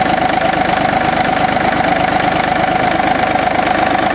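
A John Deere F1145 diesel mower engine idles with a steady, loud, even drone and constant low mechanical rumble throughout, no voices.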